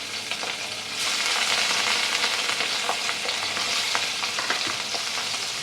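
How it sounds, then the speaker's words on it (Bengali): Fish sizzles and crackles in hot oil in an iron wok, a dense close frying hiss that swells after the first second and continues with scattered pops. "মাছগুলোকে এক এক করে ভেজে নিই।"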